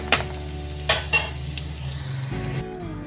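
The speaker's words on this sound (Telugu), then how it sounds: "ఇంకా ఆలు ఫ్రై అయితే చేస్తున్నాను." Potato fry (aloo fry) sizzles in a pan at home while a utensil stirs it, giving a few sharp scrapes over a steady soft crackle, close and alone.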